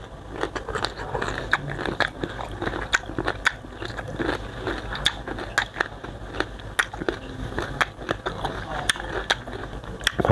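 Crisp crunching bites into crunchy green mango, eaten with sweet fermented fish sauce, with repeated close, sharp snaps and chewing in an uneven rhythm, with occasional voice-like sounds mixed in.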